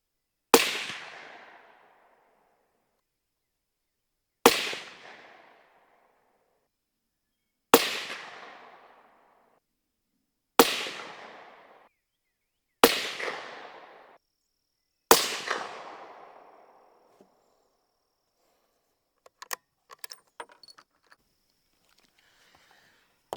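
Rifle shots from a 300 Blackout firing 147 grain rounds while sighting in a scope, six sharp cracks spaced a few seconds apart, each with a fading echo, followed by faint clicks and handling sounds.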